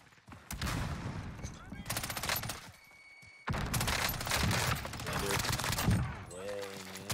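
Bursts of gunfire in Warzone, likely from the Star Wars-themed Tundra sniper rifle, loud dense shot clusters in two long stretches split by a brief quieter gap, with a voice briefly audible.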